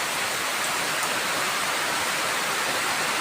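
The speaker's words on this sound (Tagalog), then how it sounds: "Oh, sobrang lakas ang hangin." Steady, loud broadband roar of heavy rain driven by strong wind during a typhoon, a continuous wash of noise with no breaks and no voices.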